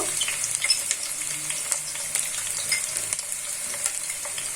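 Cumin paste sizzles steadily in hot oil in a pan while a fish curry with cauliflower, potato and tomato is being cooked. The frying hiss is dense and continuous, with faint scraping throughout and no voices.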